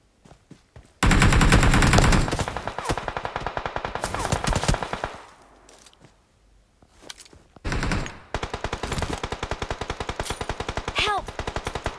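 PUBG Mobile gunfire: rapid automatic bursts, loud and close, come in several volleys separated by brief lulls, with sharp cracking shots through most of the stretch.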